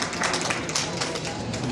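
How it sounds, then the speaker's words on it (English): An audience at an anti-racism gathering applauds with a quick, dense patter of claps, and voices murmur underneath the clapping. "Round of applause for taking time out today to stand against racism."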